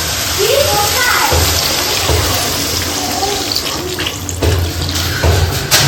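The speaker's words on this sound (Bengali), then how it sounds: "আর জল দিয়ে দেবো" Water is poured into fried spice paste whose oil has separated in a pan for a stingray fish curry, giving a steady loud gushing, sizzling rush that runs without a break.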